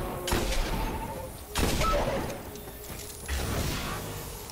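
Thorn hand cannon being reloaded in Destiny, three distinct mechanical clacks and metallic clicks spaced about a second and a half apart, close and moderately loud over faint background ambience.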